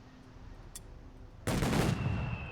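Gunfire in the strategy game Company of Heroes 3: a faint crack early on, then a loud, rapid burst of shots that trails off into a rumbling tail.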